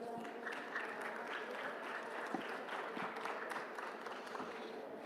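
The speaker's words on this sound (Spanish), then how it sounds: "Por favor, ayúdenme con un aplauso." Faint, distant applause from the audience at a talk on prehospital care of sports emergencies, a steady patter of many hands clapping at low level with no voices.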